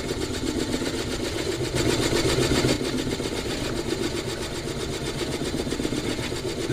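A drill bores into a black and white ebony pen blank, giving a steady, loud motor whine with a rough cutting rasp that holds evenly throughout and swells slightly midway, with no talking.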